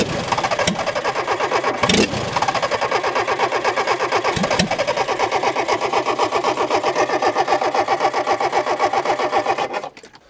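Engine of an old vehicle left three years in a bush, cranking and sputtering in a fast, steady rhythmic chug close up, running for about ten seconds before abruptly cutting off.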